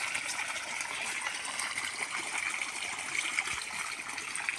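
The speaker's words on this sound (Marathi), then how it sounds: "आणि काकांनी मोटर चालू केलेली, काकांनी गवतावर पाणी सोडलेले" A pump motor sends water out onto grass in a steady, unbroken hissing rush close by, with no pauses.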